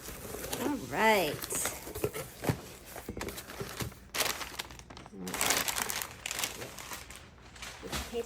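Packing paper crinkling as a craft subscription delivery box is unboxed, with bursts of close rustling and crumpling throughout, alongside a person talking and a few handling thumps.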